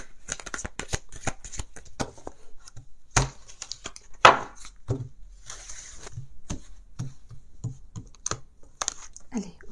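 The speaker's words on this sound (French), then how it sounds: "on va encore mélanger les cartes" Tarot cards shuffled by hand in a riffle of rapid papery flicks and taps, close and fairly quiet, with a few sharper slaps between bursts.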